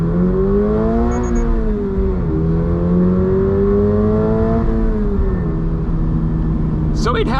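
Toyota GR86 sports car with a 2.4 liter Boxer engine and manual gearbox accelerating hard, a loud continuous engine note climbing through the revs with a brief dip at a gear change, heard from inside the cabin.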